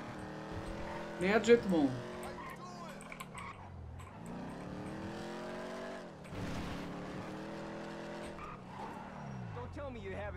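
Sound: car driving and skidding in GTA V video game

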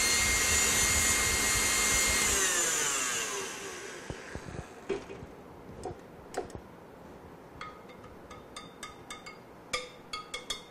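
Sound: electric mixer beating hazelnut cake batter

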